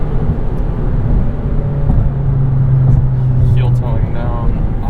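A 2013 Mazdaspeed 3 during a heel-toe downshift: constant loud engine and road drone with a steady tone holding, then a brief blip as the gear changes.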